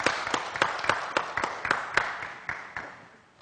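A crowd applauds with scattered, sharp claps forming a steady patter that gradually thins and fades out near the end.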